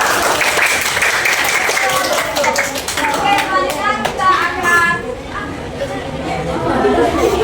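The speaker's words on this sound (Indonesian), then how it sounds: "Mari tepuk tangan untuk Zahira." Classmates clap for a student named Zahira in a school lesson, a fairly steady patter of hands mixed with children's chatter and voices throughout.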